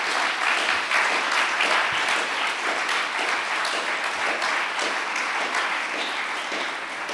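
A crowd applauds at a celebration event, dense steady clapping that fills the whole stretch at even loudness and tails off slightly at the end, with no voices over it.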